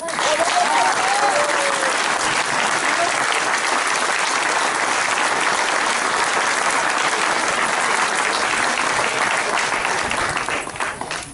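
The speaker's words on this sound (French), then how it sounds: "Je vous demande d'applaudir très fort Monsieur Jean-Louis Le Breton." An audience at a celebration applauds loudly and steadily for an honoured guest, a dense, continuous crowd of clapping hands filling the room from start to finish.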